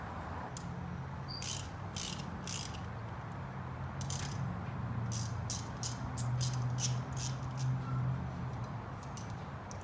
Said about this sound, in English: once I remove this bolt, the hinge will open, I can remove the control